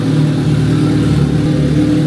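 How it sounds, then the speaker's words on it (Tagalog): A Kawasaki ZX-14R motorcycle with a straight pipe exhaust idles loud and close, a thick, steady, throbbing engine rumble throughout. "Napakaingay. Para naka-straight pipe eh."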